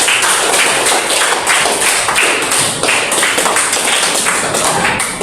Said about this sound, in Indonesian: kita berikan aplaus besar